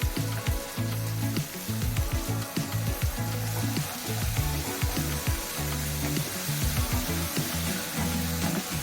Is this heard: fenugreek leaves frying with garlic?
yes